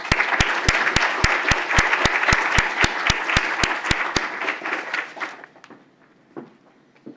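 A symposium audience at the 2016 Moore Center Symposium bursts into loud, steady applause with sharp individual claps, then fades to near silence as someone walks up to the podium.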